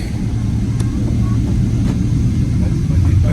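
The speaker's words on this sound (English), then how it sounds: "It's taxiing to the takeoff position." A steady, loud rumble of an Emirates Boeing 777 jet taxiing toward its takeoff position. The engine drone holds even and constant throughout, heard from nearby on the ground.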